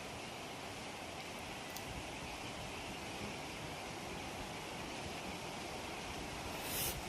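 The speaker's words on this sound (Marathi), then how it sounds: "हा तो धबधबा कसा मस्त दिसतोय" A waterfall at Raigad fort, heard in misty monsoon weather as a steady, broad roar of falling water mixed with wind buffeting the microphone, continuous and fairly distant, with no voices.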